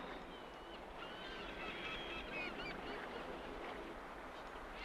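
Geese or similar birds honking as they fly south, faint and distant, a scattered chorus of calls over a steady wash of outdoor background noise.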